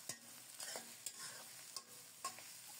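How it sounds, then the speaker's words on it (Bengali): A bowl of chopped onions browns in hot mustard oil for chicken biryani. A soft, low-level sizzle runs under frequent scraping and clattering strokes of the stirring spoon, with no talk. "তেল গরম হলে এক বাটি কুচানো পেঁয়াজ দিলাম। নেড়ে চেড়ে বেরেস্তা ভেজে নেব।"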